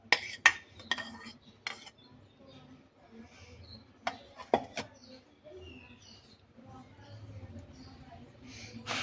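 A spoon stirring and mixing chana chaat ingredients with tomato in a bowl, irregular clinks and scrapes of metal against the dish, close and quiet, with soft background sounds.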